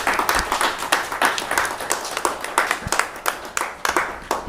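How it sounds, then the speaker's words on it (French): An audience at a Paris conference at the Bourse du Travail applauds a writer, with dense, steady clapping from many hands that stays loud and close throughout. "On applaudit l'auteur, non?"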